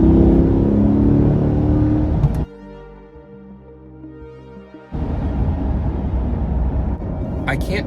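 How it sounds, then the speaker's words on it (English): Inside a 2021 Chevrolet Corvette C8 Stingray, the engine drones loudly, drops to a quieter lower hum during a downshift, then surges back with a strong rev. Someone talks over the engine noise. "Okay, here comes the gear change down."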